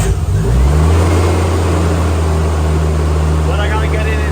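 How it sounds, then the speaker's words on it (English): A Nissan R34 Skyline's engine fires up and settles into a loud, close, steady idle with a deep rumbling tone, and a voice speaks over it. "I love how you don't have to get in the car and push the clutch to start the car."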